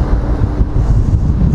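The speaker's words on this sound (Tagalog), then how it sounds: "Masyadong mahangin, malamig." Strong, cold wind buffets the microphone outdoors on the third floor of a ferry from Vancouver to Victoria, a continuous loud low rumble with no voices.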